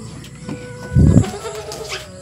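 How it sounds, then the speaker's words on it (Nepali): A goat bleats once, loud and close, at a rural family home where maize is about to be roasted. A low murmur of background noise sits beneath it. "यहाँ बाख्रा म्या गर्दै बाख्रा हेर्न सक्नुहुन्छ"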